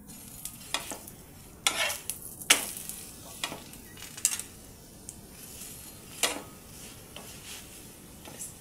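Methi thepla roasting on a hot pan with a little oil, a soft sizzle under repeated sharp scrapes and taps of a spatula against the pan, close and irregular.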